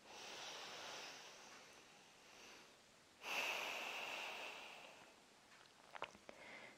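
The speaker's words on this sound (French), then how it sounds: "Une inspire, une expire profonde." A slow, deep breath during a yoga session, a long airy inhale fading out, then after a pause a stronger, louder exhale that trails off, followed by a few faint soft clicks.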